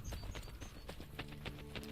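Horse hooves clip-clop in a quick, steady rhythm in Assassin's Creed Brotherhood, close and crisp, with no voices.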